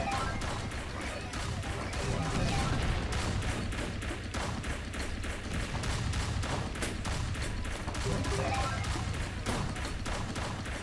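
Cannons fire in the VR game Wolf Attack VR, a dense, continuous barrage of booming shots and crashing impacts that keeps up at a steady level throughout.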